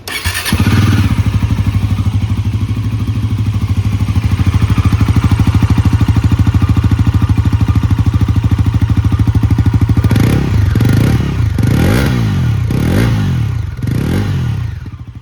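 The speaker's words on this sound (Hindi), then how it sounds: "एक बार मैं आपको इसका एग्जॉस्ट नोट भी सुना देता हूँ कि ये कैसा प्रोड्यूस कर रही है" Bajaj Pulsar NS 400Z with its 349cc engine idles with a steady, loud exhaust note, then is revved in several sharp, rising bursts near the end, close and alone with no talk.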